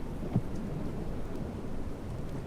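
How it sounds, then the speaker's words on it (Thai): Steady rain and rumbling thunder fill a stormy scene in the Dead Rails game, a dense continuous wash of downpour with a low roll of thunder throughout and no voices. "นอนรอพายุหมดไป"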